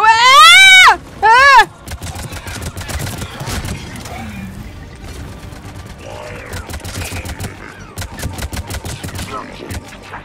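Rapid gunfire in the video game Mass Effect 3, a dense run of sharp repeated shots through most of the clip, preceded by loud harmonic voice-like cries at the start, with other battle noise mixed in.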